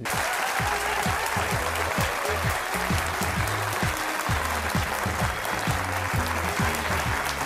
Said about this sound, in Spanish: Acá los veo a todos obligados a aplaudir